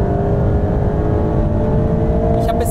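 A Mercedes-AMG GT Black Series accelerates hard on the Nürburgring, with its engine roaring loud and close in a dense, steady drone that holds throughout, heard from inside the car with no talk.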